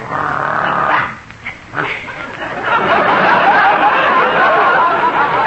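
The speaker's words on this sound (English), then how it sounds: "And this is Daisy, my favorite dog." A dog barks in a 1952 radio comedy sound effect, giving loud, close yips and growly barks in short bursts followed by a sustained noisy passage.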